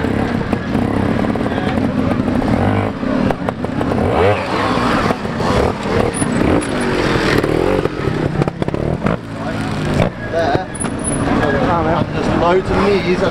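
Trials motorcycle engine at a ladies and girls trials championship round, revving and popping in repeated bursts with a steady mechanical drone, fairly loud and continuous, with voices and crowd chatter mixed underneath.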